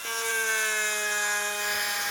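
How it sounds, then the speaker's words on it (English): A power drill bores into a tortoise shell, giving a steady high whine for about two seconds with no talk over it. "It's a drill."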